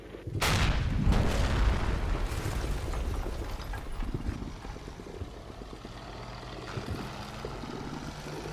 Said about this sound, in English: That's probably a mortar, I think.